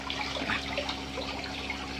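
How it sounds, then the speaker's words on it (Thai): A small waterfall built from stacked stones and brick in a homemade backyard fish pond trickles and splashes steadily, a continuous close water flow with no talking. "มีน้ำตกด้วย"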